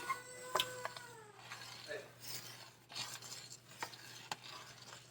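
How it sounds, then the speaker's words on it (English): A spoon stirring strawberry banana habanero jelly in a pot, with soft scraping and clinking strokes at an irregular pace, quiet and close, over a steady low hum. "you want to keep stirring to make sure nothing sticks, because you don't want it to burn"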